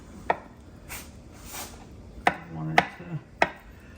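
A sharp kitchen knife chops potatoes on a cutting board, four crisp, separate knocks spread unevenly across a quiet room, fairly close and clear.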